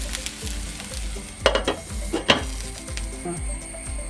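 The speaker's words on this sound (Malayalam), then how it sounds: "ഈ ചുമന്നുള്ളി ഇങ്ങനെ ചതച്ചിട്ടത് ഇടയ്ക്കൊക്കെ ഒന്ന് കലിക്കണം എണ്ണയ്ക്കകത്ത് മുരിഞ്ഞതല്ലേ" Crushed shallots and green chilies fry in oil with a steady close sizzle, while a utensil stirs and scrapes the pan in repeated rhythmic strokes, a few sharper clinks standing out.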